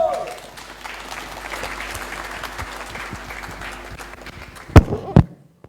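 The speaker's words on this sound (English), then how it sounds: "I don't know what kind of a round of applause that was" A thin round of applause from the audience at a Sunday love feast gathering, steady and modest in volume, trailing off near the end with a couple of louder thumps.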